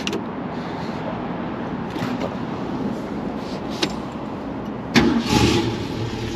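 A 1966 Ford Mustang convertible engine, started cold without touching the accelerator, cranks, catches with a sudden burst and settles into a steady, close idle.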